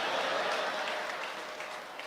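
Audience applauding at a Hindi comedy poetry show, a dense continuous clatter of clapping that fades slightly toward the end, with no voices over it.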